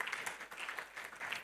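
Audience applause at a symposium opening ceremony: a dense, steady round of clapping from a crowd that holds evenly throughout without fading.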